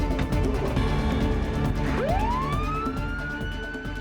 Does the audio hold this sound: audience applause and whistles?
no